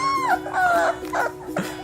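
A young puppy, about three to four weeks old, whimpers and yips in a run of high, wavering cries, close and fairly loud, with brief pauses between the calls.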